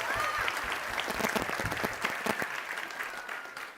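An audience at a Christmas special event claps warmly, dense and steady applause close by that gradually thins toward the end, with faint voices underneath.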